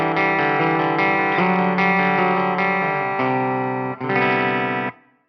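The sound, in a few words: electric guitar on bridge pickup, push-pull disengaged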